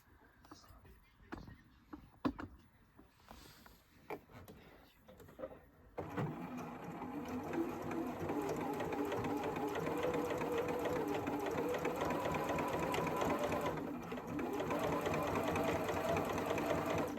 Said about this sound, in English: and that's where I'm going to start stitching, and I'm just going to follow the line all the way around back to that point